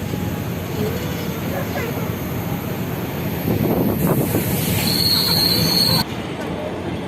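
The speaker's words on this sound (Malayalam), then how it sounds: "നമ്മൾ വന്ന ട്രെയിനിൻ്റെ പോവുകയാണ്" A train departs Ernakulam station, rumbling and hissing nearby, its clatter building in the middle, with a high whine briefly sounding before the noise drops and wind buffets the microphone.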